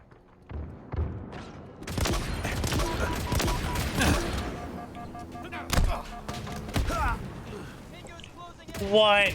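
Halo Infinite gunfire, with dense bursts of shots and explosive booms close by among game effects, rising and falling through the clip, while a player talks over it.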